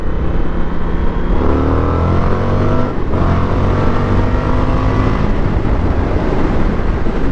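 An Indian FTR1200 motorcycle accelerates hard, its engine note climbing steadily in pitch through the rev range. The loud, close roar continues unbroken, with a brief dip midway before it pulls up again.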